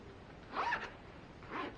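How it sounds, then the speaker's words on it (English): Two brief, quiet strokes of a zipper on a quilted pouch, with a short pause between them, heard up close with no talking. "Okay, zipper."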